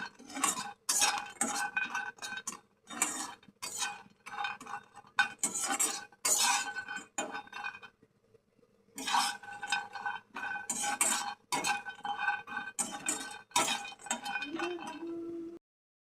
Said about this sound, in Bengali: ভালো করে ব্রাউন হওয়া তক ভেজে নেব।